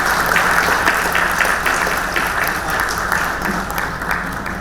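Audience applause for Olympic shooter Manu Bhaker at a stage event, a steady, dense clapping that fills the whole moment at fairly loud level without any speech.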